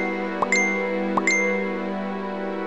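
Two bright, clear dings from a phone text message notification, evenly spaced about a second apart, each ringing out briefly over a steady background hum.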